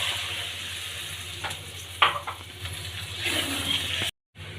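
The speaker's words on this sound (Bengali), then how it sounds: "আমি এখন কিছুক্ষণ মশলাটা ফুটিয়ে নিব" Spice paste with ground cumin, water and a cup of milk simmers in a pan, giving a soft, steady bubbling hiss with a few light clinks of a spoon, quiet and close, cut briefly by a short gap near the end.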